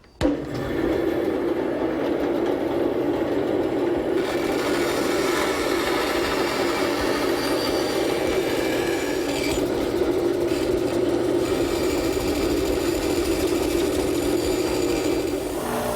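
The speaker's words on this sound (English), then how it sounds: "I'll make the cut at the bandsaw" A bandsaw cuts a decorative cutout in pine, a steady loud whirring drone running continuously with slight shifts in tone as the blade moves through the wood.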